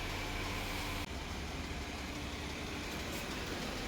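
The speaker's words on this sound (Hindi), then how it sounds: "गाड़ी रिवर्स हो रही है।" A car reverses out of a parking space at Yorkdale Mall, a low, steady engine hum heard from inside, fairly quiet, with a brief click partway through and no talking.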